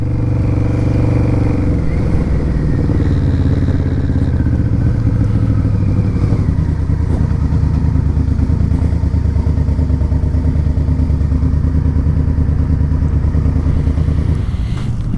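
A 1999 Yamaha VMAX 1200cc motorcycle engine rumbles close by, a deep continuous idle with slight throttle swells and mechanical clatter, loud and steady with no voices.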